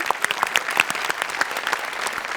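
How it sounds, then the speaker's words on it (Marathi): A studio audience at a Marathi TV comedy show breaks into loud, sustained applause, a dense patter of clapping hands that holds steady throughout with no voices. "जोरदार टाळ्या"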